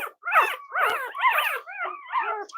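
A newborn puppy nursing from its mother lets out a close, high, wavering string of whimpers and squeaks, five or so in quick succession.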